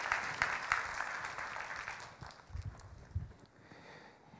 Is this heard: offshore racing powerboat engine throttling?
no